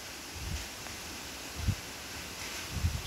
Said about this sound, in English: Can you hear the wind?